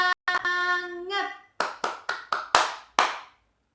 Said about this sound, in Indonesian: kita tepuk semangat dulu ya